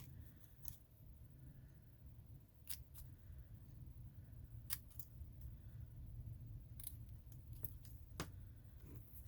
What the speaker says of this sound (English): I cut down the middle and then I cut it to each side